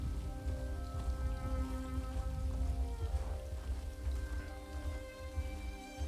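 Steady rainfall in a green, swampy video game landscape, a constant even patter with faint tonal game ambience underneath and no talk.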